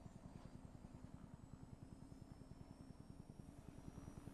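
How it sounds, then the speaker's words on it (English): Helicopter in Far Cry 4, a steady pulsing rotor thump with a continuous engine drone, faint and unbroken, heard alone without talk. "Is that a helicopter?"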